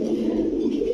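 Steady low cooing of pigeons at a pigeon market, a continuous soft warbling murmur from several birds nearby, with no speech.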